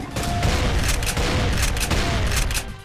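Grenade-throwing enemies in a tropical-themed Doom map set off a dense, continuous barrage of loud explosions and booming blasts, one overlapping another for the whole stretch with no pause.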